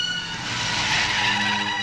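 A car pulls up and comes to a stop, giving a close, steady broadband rush with a faint high tonal whine like brakes, and no voices over it.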